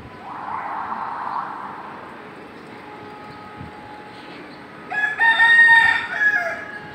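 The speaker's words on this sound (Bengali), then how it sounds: "আমার মোরগ আছে" A rooster crows once, loud and close, after a stretch of quiet outdoor ambience with a faint low hum, at a rooftop where pigeons are being flown.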